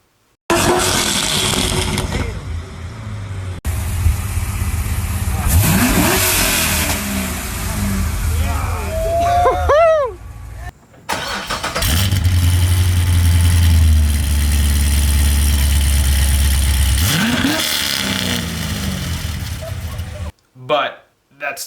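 Corvette Z06 engine fitted with American Racing headers, loud and close, revving hard in repeated rising pulls with idle between, a brief cut midway, then another climbing rev.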